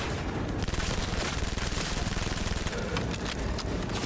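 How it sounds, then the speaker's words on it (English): A fast-firing gun in the video game Cyberpunk 2077 lets off rapid automatic gunfire, a dense, loud, continuous rattle of shots layered over busy game sound. "This gun shoots so fast."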